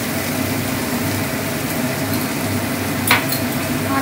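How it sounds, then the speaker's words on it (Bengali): Ground cumin, coriander, chilli powder and salt frying in a pan for pomfret kalia, giving a steady even sizzle with a single brief metallic scrape of the stirring utensil partway through. "এটাও ভালো করে ভাজবো নেড়ে চেড়ে"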